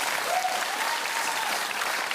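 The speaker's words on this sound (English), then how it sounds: "Oh, yes, please, let's applaud. We should applaud the Prime Minister." Studio audience applause on a comedy news show, a dense, even burst of clapping with no breaks for about two seconds.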